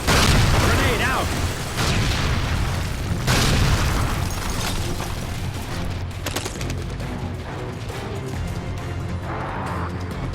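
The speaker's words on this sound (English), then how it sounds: "Grenade out." A grenade goes off in the sci-fi shooter Lost Planet 3: heavy booming blasts near the start, then rumbling and scattered crackles that fade, with a voice speaking over the action.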